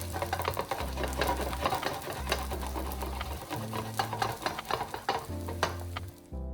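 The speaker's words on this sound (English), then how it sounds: "Once the oil is hot enough, add the first scallion pancake." A scallion pancake sizzles steadily in hot olive oil over medium heat, a dense crackling fry running throughout with a low hum beneath, close and fairly loud, with no voices.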